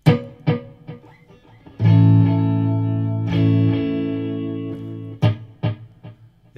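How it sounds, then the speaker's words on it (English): An electric guitar played through an echo effect rings out in plucked notes and a sustained chord, each sound repeating and fading away in quieter copies. "you can also put echo on a guitar"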